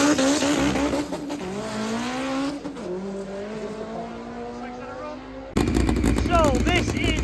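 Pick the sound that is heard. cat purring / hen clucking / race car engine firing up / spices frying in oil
race car engine firing up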